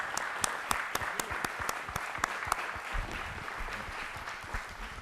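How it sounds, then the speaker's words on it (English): A small audience applauds at a community talk on trash collection in Newport, a steady, fairly close patter of many hands with sharp individual claps standing out, lasting about five seconds. "let's have a round of applause for Dave and Dean."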